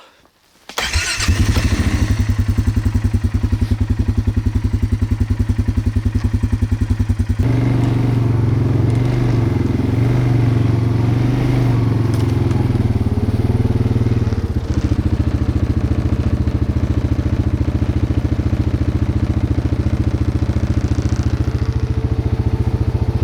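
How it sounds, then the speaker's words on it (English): A motorbike starts with a quick burst and settles into a loud, close engine drone, then rides along a swamp trail at night with shifts in engine tone and occasional rattles and thumps. "we're going to start this bike and we're going to continue on down the 90-acre trail"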